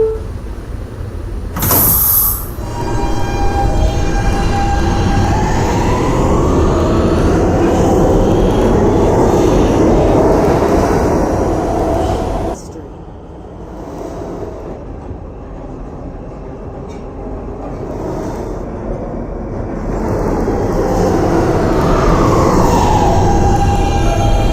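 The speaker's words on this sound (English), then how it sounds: "This is a Westpatot-bound B train via the K line." A Potato City subway B train on the K line runs steadily, with a sharp brief hiss early on, a dip in rumble midway as it slows or passes through, then the loud rolling noise building again.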